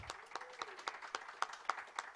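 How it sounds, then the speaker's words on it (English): Applause at a college press conference, sounding as a few sparse, spaced claps at a steady rhythm rather than a full crowd, fairly faint and distant in a quiet room. "let's give BEMA a round of applause"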